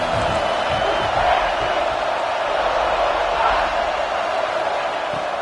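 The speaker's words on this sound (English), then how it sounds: "how nice is it to have the home crowd going absolutely bananas" Home crowd at a college football game, Tulane hosting South Carolina, roars in a loud, sustained wall of cheering and whooping that holds steady for the whole stretch, with no commentary over it.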